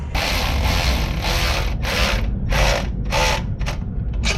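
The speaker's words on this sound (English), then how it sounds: "so now let's go ahead and bolt this down" A hand ratchet bolts down a turbo V-band flange on a vehicle, sounding as loud, close bursts of rapid clicking repeated in a steady rhythm, with short pauses between strokes.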